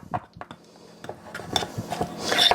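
A spoon stirring cream cheese icing for gingerbread in a bowl, giving scattered clinks and scraping rubs of utensil against the bowl, close and irregular, growing busier toward the end.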